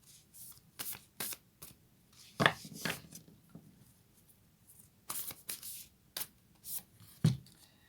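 Oracle cards for a Moonology reading are shuffled in bursts, with repeated crisp riffling and slapping of the deck, close and fairly quiet with short pauses between handfuls.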